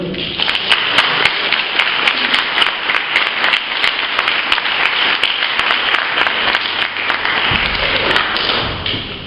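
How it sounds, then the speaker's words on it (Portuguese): A church congregation at a Christian worship service claps loudly and continuously, the dense applause punctuated by sharp taps and thuds, with no talk over it. "Vamos aplaudir o Senhor?"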